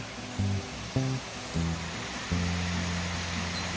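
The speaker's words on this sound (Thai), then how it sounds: "โอ้ดูน้ำตกดีฮะ" Phu Muang multi-tiered waterfall in Suphanburi, Thailand, a steady broadband rush of falling water heard throughout, with a few low tonal bumps and hums layered over the constant roar.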